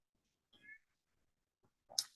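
A cat gives a few short, soft meows with quiet gaps between them, ending in a slightly louder cry.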